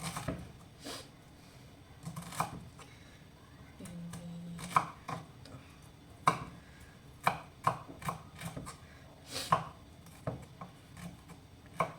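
A kitchen knife chopping food on a cutting board while preparing sautéed meat with tomato sauce: sharp, close, irregular knocks that grow quicker and denser toward the end, with no voices.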